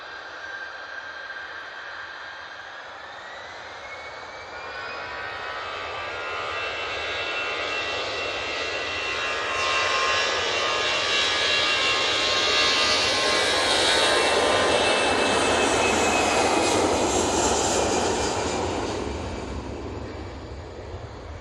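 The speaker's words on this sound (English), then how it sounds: "Aer Lingus just touching down behind the Easyjet" An Aer Lingus jet airliner touching down at Manchester Airport swells from a distant whine into a loud, hissing engine roar that peaks and holds near the end, with no talking.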